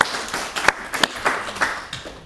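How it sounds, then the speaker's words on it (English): Brief scattered clapping from a few people in a Christchurch City Council meeting room, a handful of sharp claps spread unevenly over a couple of seconds, moderately close and with no talk over it. "There was clapping."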